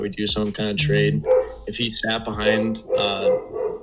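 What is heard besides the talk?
dogs barking in the background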